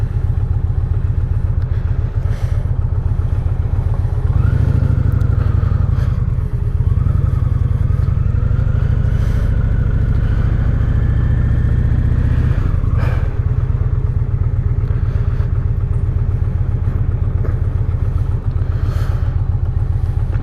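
An Indian Challenger motorcycle rides through city traffic in Belleville, Illinois, its engine a loud, steady close-up drone with a brief rising rev midway and light clatter over continuous road and wind noise.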